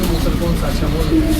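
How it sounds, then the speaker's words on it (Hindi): Sialkoti pearl pigeons coo in soft, low, rounded notes close by, heard under someone talking over them. "मोतियों वाले कबूतर हैं जी।"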